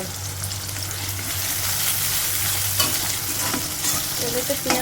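Onion fries in oil as the base for a shrimp curry, with a loud, close, continuous sizzle and occasional spatula stirring clicks toward the end, heard on its own without talk.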